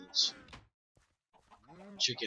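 Chickens cluck in a Minecraft GregTech modpack farm pen, two short bursts of game clucking separated by a brief silence, with someone talking over them.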